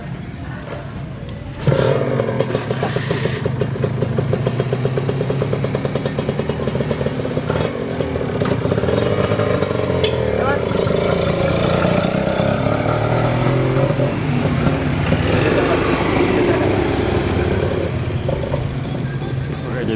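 A motorcycle engine starts up and revs loudly close by, its throbbing idle rising and falling for a long stretch, with faint voices at times.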